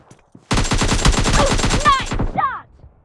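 Rapid automatic gunfire from a PUBG Mobile Lite match, a loud dense burst of repeated shots lasting about two seconds with a few whooshing effects near the end, then quiet.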